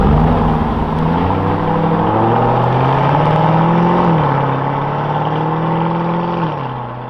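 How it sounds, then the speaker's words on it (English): A Lamborghini Urus S SUV drives along a road, its engine a loud, steady growl that rises and falls slightly in pitch as it revs, fading a little at the end. "The first Urus S are finally being tested on the road."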